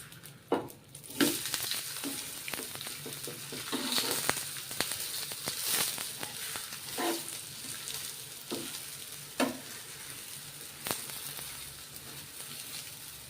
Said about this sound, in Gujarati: આમાં આપણે એક સાઈડ પાકી ગયું છે તો ઉપર થોડુંક તેલ એડ કરશું.